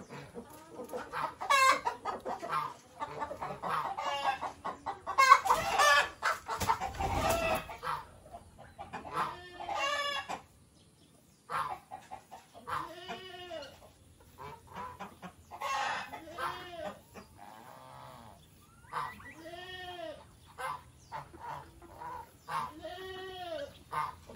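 Several roosters cluck and squawk in repeated bursts on a farm, fairly close, with a few louder calls standing out; no talking.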